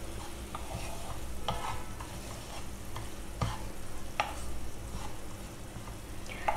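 Khoya sautés in a pan under a low continuous sizzle, with a spatula scraping and knocking against the pan every second or so, close and fairly quiet.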